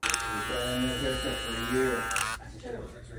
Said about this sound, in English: does your BaByliss clipper keep doing this?